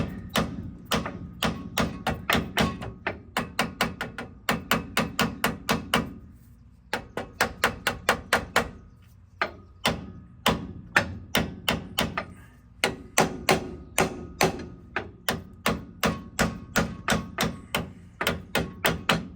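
Metal hammer blows knocking a steering linkage loose from a Jeep TJ steering gearbox: dozens of sharp, ringing strikes in quick bursts with short pauses between, loud and close, no voices.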